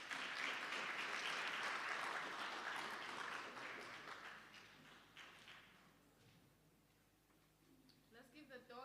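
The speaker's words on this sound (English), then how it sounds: "Let's give the doctor the hand of applause." Seminar audience applauding, a broad sustained wash of clapping that is loudest at first and then gradually thins and fades, with a few scattered claps near the end.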